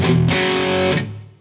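Distorted electric guitar plays a short phrase from a riff, a sustained chugging chord section that cuts off after about a second, leaving a fading tail and a brief pick at the end.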